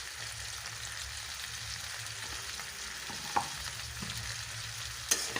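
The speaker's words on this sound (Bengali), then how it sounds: "আবারও ভালো করে কষিয়ে নেব মশলাটা দিয়ে" Spice masala with cumin powder frying and being stirred in a pan for a rohu fish and green banana curry, a steady soft sizzle with a few sharp utensil scrapes near the end.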